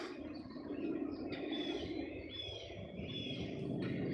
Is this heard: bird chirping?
yes